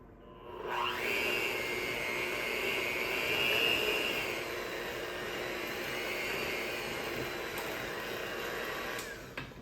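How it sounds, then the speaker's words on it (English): An electric hand mixer whirs steadily through muffin batter, a loud close motor drone that rises in pitch as it starts and holds almost unchanged until it cuts off at the end. "I'm just gonna mix this in a little bit with my hand mixer before I add in the eggs"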